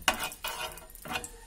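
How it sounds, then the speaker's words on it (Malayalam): A spoonful of ghee goes into a hot pan while banana coconut balls are being made, giving three short, quiet bursts of sizzle and spoon-scraping within a second and a half. "ഇതിലേക്ക് ഒരു സ്പൂൺ നെയ്യ് ഒഴിച്ചു കൊടുക്കാം."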